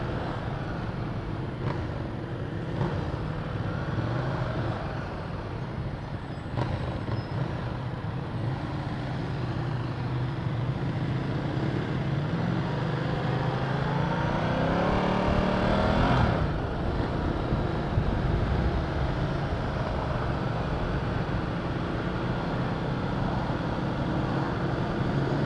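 A Ducati motorcycle engine drones steadily while riding, rising and falling in pitch with a brief surge around the middle, all heard close and continuous.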